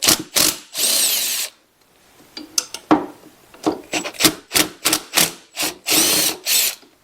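A hand tool works on the 10mm starter bolts of a Polaris Sportsman ATV, giving short, sharp ratcheting rasps and scraping bursts in an irregular, close rhythm with brief pauses between strokes.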